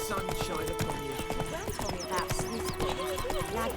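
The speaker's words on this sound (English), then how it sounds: "Whoa there, Roach." Horse hooves clip-clop steadily across the ground in The Witcher 3: Wild Hunt, a brisk, close rhythm with a brief whinny, layered over an ongoing musical backdrop.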